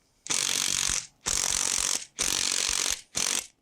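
A DeWalt DCF922N cordless impact wrench with a 24 mm socket hammers at a rusted, mud-caked excavator lower roller bolt in four loud, close bursts, each lasting under a second and separated by short pauses.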